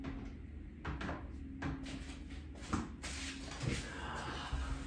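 A door is opened for a cat indoors, with a few soft knocks and shuffling handling sounds spread over a steady room hum, fairly quiet and close.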